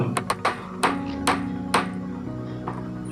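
Small nails are hammered into the center of a wooden piece while building a homemade dust pan: roughly seven sharp, ringing taps, quick at first and then spaced out, fairly loud and close.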